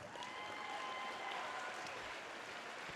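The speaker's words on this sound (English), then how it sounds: "I said a round of applause for yourself" An audience at a live evening show claps steadily for about three seconds, a dense, even wash of applause heard from a moderate distance with no voices over it.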